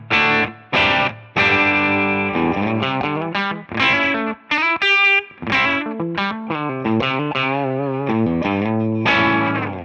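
Distorted electric guitar through a Tonex amp modeler pedal playing a series of crunchy chords and notes, close and loud, with sharp stops between phrases.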